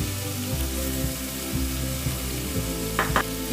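Chopped potato pieces sizzle steadily in a simmering Punjabi chole gravy, giving a close, continuous frying hiss with faint stirring and bubbling, and no talking.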